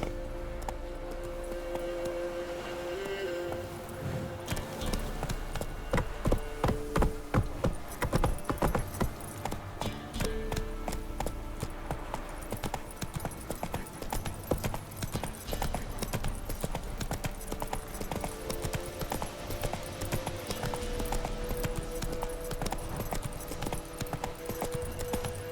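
The horse Roach's hooves clatter in a steady rapid rhythm on the ground in The Witcher 3, with game music and ambience underneath, a brief faint voice at one point.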